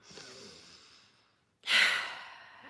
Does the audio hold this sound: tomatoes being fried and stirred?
no